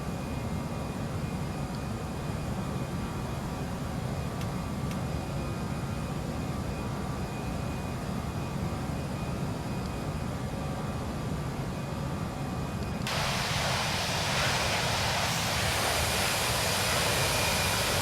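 A steady airliner engine drone in the Prepar3D flight simulator, climbing after takeoff, runs continuously with broad hissing noise that suddenly brightens and intensifies near the end.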